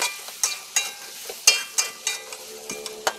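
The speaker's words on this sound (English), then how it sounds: "now we saute our onion and daun bay leaf, yeah, onion and bay leaf" Onion, bay leaf and garlic sautéing in olive oil and butter under a soft sizzle, broken by repeated sharp scrapes and clacks of stirring about every third of a second, close and without talk.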